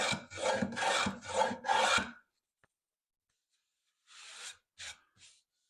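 A hand plane fitted with a cambered chip breaker, used as a scrub plane, shaves wood in close, raspy strokes: five quick rhythmic passes, a pause, then a few shorter, fainter strokes.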